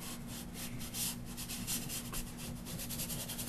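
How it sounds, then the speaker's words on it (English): Fingertips rub fluorescent chalk across a drawing surface in a continuous soft, close scuffing with small swells, steady throughout and alone without talk. "I'm going to go back to my trusty old fingers here, and I'm going to move the chalk around"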